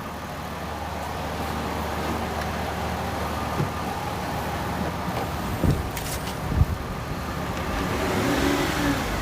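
A car engine revs up during a diagnostic check of the mass airflow sensor, a steady mid-range drone with a couple of brief surges, heard up close without talk.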